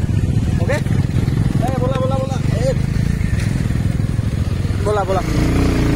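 A motorcycle ridden on a trip from Guwahati to Cherrapunji in Meghalaya, its engine a steady close roar mixed with wind rush throughout, while people talk over it.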